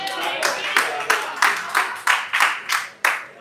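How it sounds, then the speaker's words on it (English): A group of people clap in steady, evenly spaced claps, about ten loud strikes over a few seconds, at a live wellness-product promotion. "Clap for me, man."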